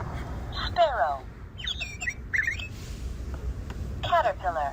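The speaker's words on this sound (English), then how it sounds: "Sparrow." Small bird chirping in a game, several quick bright chirp bursts in two clusters, fairly close and clear over a low background hum.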